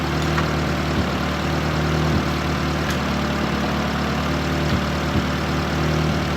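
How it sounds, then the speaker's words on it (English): A Ford Festiva's engine running at a steady idle, a constant low hum with a faint periodic tick, heard alone and close without any talk. "engine running"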